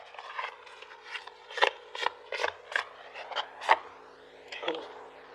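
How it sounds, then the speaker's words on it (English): A deck of tarot cards being shuffled by hand, with about a dozen crisp riffling bursts in an uneven rhythm, close and fairly quiet, with no talking over it. "These are so hard to shuffle."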